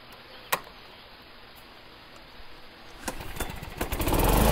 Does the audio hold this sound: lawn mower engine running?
yes